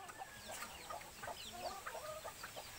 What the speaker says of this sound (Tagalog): Nagpapatoka siya ng mga manok